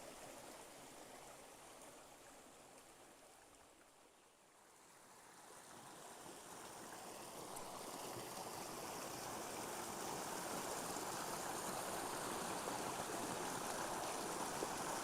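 Flowing stream water rushes steadily and fairly close, with no one talking; a brief dip in level is followed by a fuller, louder wash that holds to the end.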